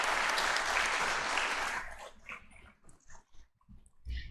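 A burst of audience applause for about two seconds, fairly close, then it breaks off into scattered quieter sounds and a dog whimpering.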